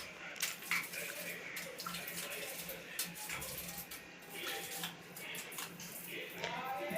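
Clothes being hand-washed under running tap water in a home bathroom, with steady splashing and trickling, scattered sloshes and clatter, and faint talk underneath.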